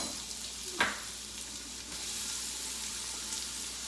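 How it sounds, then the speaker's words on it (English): Onions, garlic and mushroom hit a hot pan with a sharp clatter, then settle into a bright, continuous sizzle that stays loud and steady throughout. "we're going to toss in our onions, garlic, and mushroom, nice and sizzly."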